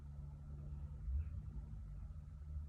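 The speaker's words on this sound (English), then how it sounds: "The rumble of a passing car" A low, steady rumble of a car engine somewhere in the distance, faint and continuous with a slight swell in the middle.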